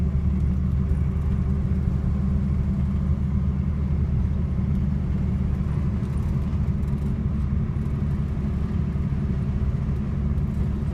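A 1964 Mercury Comet with dual split headers makes a tunnel run, its engine a loud, deep, continuous rumble that drones steadily and close for about eleven seconds without talk.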